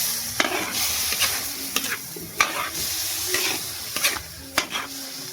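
Close sizzling of pakol fish frying in a pan, with repeated scraping stirring strokes in an uneven rhythm and no talking.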